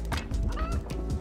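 A chicken in the video game Donut County, whacked round and round with a sign, gives a run of rough honking, squawking calls over about a second, close and fairly loud.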